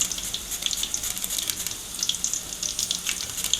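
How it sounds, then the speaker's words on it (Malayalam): Raw banana slices dropped into well-heated oil for chips, crackling and sizzling close up with a dense bubbling hiss and sharp pops throughout, no talking. "എണ്ണ നന്നായി തിളച്ചതിന് ശേഷം മാത്രം അരിഞ്ഞിട്ട് കൊടുക്കേണ്ടതാണ്"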